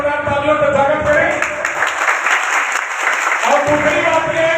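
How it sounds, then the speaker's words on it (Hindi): Audience at a Vishva Hindu Raksha Parishad gathering clapping in welcome, a loud steady burst of applause with background voices and a hum that cuts out briefly midway. "2 तालियों का स्वागत करें।"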